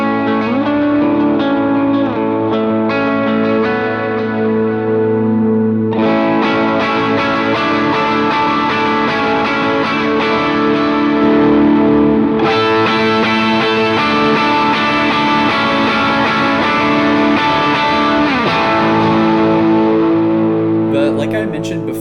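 Electric guitar on a high-gain preset with a MIDI-switched boost stacked on top plays sustained distorted chords and riffs, loud and continuous with reverb tails, swelling in intensity at each switch.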